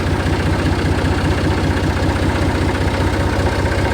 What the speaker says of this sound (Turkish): Şöyle biraz traktör ısınsın arkadaşlar.